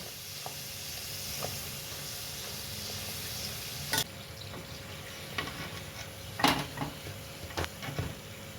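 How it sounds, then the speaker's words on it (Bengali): Chana dal puri fries in hot oil in a Kolkata-style kitchen, producing a quiet, steady sizzle with occasional sharper clinks and splashes from handling in the pan. "এরকম করে সবকটা আমি লাল লাল করে ভেজে নেব।"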